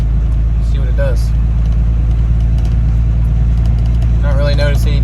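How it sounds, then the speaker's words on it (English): A flatbed truck engine running steadily during a test drive, a loud, constant low drone with brief whining tones on top as it moves. "Taking the flatbed for a test drive."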